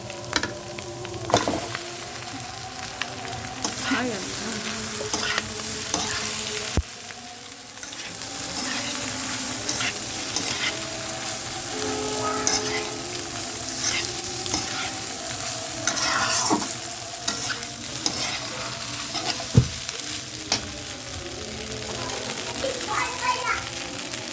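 Pasta goes into a sizzling frying pan and is stirred, with a steady fry and scraping, clattering stir strokes throughout while people, including children, talk nearby.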